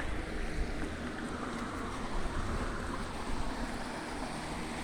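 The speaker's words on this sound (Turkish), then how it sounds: "O akan gördüğünüz şelale" Steady, broadband rushing of water, constant and fairly loud, like a waterfall pouring nearby, with no voices.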